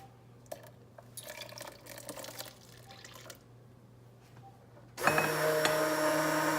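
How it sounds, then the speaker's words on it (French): Water trickles and drips into a homemade Marseille soap laundry mixture, then a strong, loud close pour from a tap fills the container toward the end. "je vais rajouter encore un demi-litre d'eau"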